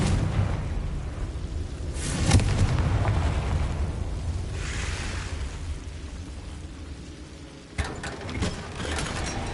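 Hogwarts Legacy Confringo blasting spell detonating as a rumbling eruption amid continuous game noise, with a sharp burst near the start, a swelling roar mid-way and another crack later.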